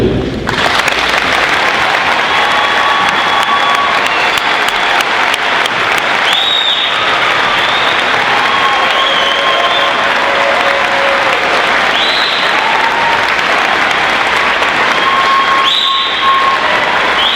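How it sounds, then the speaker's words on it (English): Loud, sustained applause from a high school graduation crowd of students, families and guests, continuous and dense throughout, with faint whistles or cheers rising above the clapping now and then. "Students, families, and guests, please join me in applauding this remarkable group of individuals."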